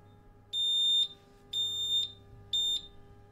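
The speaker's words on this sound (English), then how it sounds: "That beep tells us that the welding cycle is complete" An electrofusion welder joining HDPE pipe emits three evenly spaced, clear high beeps, each about half a second long, over a low steady hum.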